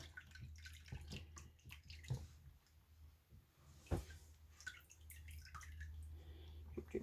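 Water drips from a soaked book page, faint scattered drops and splashes over low room hum, with one sharper splash near the middle.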